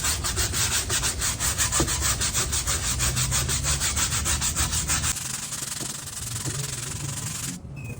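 Close, steady rhythmic sanding rasps across a wooden bench, stripping dirt and old stain, with repeated back-and-forth strokes that shift to a smoother continuous rub in the last few seconds.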